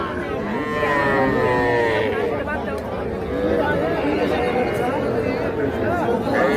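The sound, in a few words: cattle calves mooing at market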